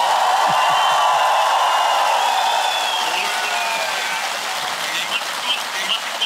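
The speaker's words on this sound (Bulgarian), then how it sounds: "Искам да чуеш аплодисмента на публиката за тебе" Audience applause for a caller in a Bulgarian TV talk show studio, a loud crowd clapping at first that thins and fades over several seconds, with a high-pitched tone drifting through it.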